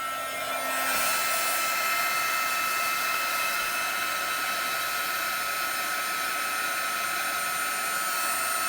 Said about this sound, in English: we're going to come back with the heat gun, and you want to let your heat gun heat up for a minute